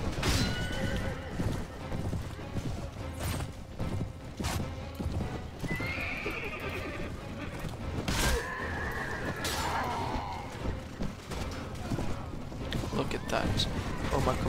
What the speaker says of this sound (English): Oh, they got horses.